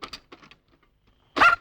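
A dog near a mother dog that has just given birth lets out a few soft, quick whimpers and yips, then after a brief silence a single louder, sharper bark.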